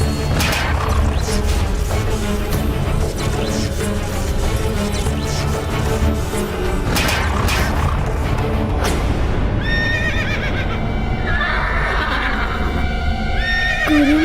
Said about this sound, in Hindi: गुरु माता के होते हुए भी समस्त अश्व इतने व्याकुल और अशांत क्यों हैं?